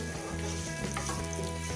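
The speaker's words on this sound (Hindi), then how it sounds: "मैंने इसमें एक प्याज डाली है। अब इसको फ्राई करते हैं।" Onion frying in a pan for achari chicken gives a steady close-up sizzle with brief stirring scrapes over a constant low hum, and no one speaks.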